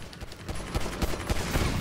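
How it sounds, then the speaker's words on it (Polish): Rapid gunfire in the online video game Grand Theft Auto Online, with dense overlapping shots and bursts cracking continuously at a steady, fairly loud level. "No kurde, ile strzałów!"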